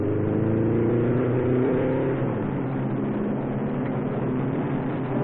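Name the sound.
Novi race car leaving the pits at the 1957 Indianapolis 500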